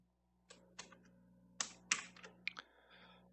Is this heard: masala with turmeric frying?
no